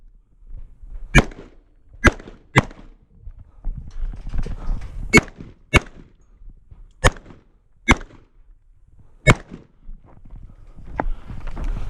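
Rifle shots closing out a cowboy action shooting stage, a string of about nine sharp, loud reports spaced irregularly a second or so apart, ringing out over light outdoor background noise with no talk.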